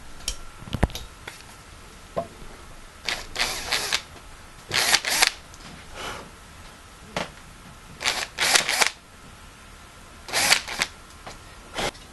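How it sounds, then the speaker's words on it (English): A larger drill bit bores a clearance hole for a screw while a half mortise lock is installed. Short, separate whirring bursts of the drill start and stop several times over a quiet background, with light clicks between. "with a larger drill bit, I'm going to drill a little bit of a clearance hole for this top part of the screw"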